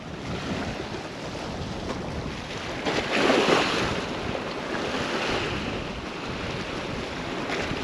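Ocean waves wash against rock jetties at night, a steady broadband surf with a brief louder surge partway through, mixed with wind noise across the microphone and no talking.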